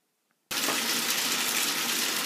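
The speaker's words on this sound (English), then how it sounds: "you start filling it up with water" Tap water gushes suddenly into a laundry container for hand-washing clothes, a loud, steady rushing pour that starts abruptly after a moment of near silence and continues alone.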